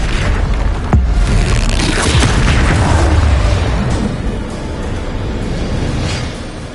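Loud, dense booming explosions from spells cast in a wizard video game, a sharp blast near the start followed by sustained rumbling detonations and crackling bursts throughout, with no voices.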